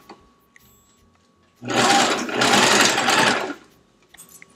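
A sewing machine stitches a fabric face mask, a close, steady motor hum and rapid needle chatter running for about two seconds with a brief dip before stopping.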